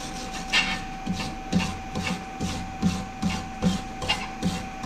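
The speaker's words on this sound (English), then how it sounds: "Bit of a wire brush up." Wire brush scrubbed over hot, freshly forged and quenched metal in a workshop: a steady rhythm of about ten rasping back-and-forth strokes, fairly close and moderately quiet, with a faint constant hum underneath.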